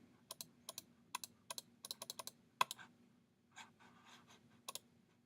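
Sharp, light computer mouse clicks come close and in uneven clusters, several quick pairs and singles, over a faint steady hum with no talking.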